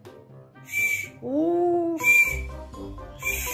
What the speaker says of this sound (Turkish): Düdüğünü de öttür.